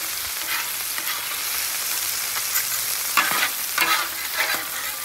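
Chicken pieces being smashed down on a hot flat-top griddle give a steady, close, loud sizzle, with a few sharper spattering bursts toward the end and no talking.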